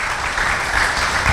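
A crowd at a full moon meditation gathering claps in dense, even applause, a steady close wash of many hands without pause.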